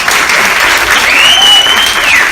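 A church audience bursts into applause during a sermon, a loud, dense wash of clapping that continues throughout with a faint tonal whistle-like sound rising above it midway.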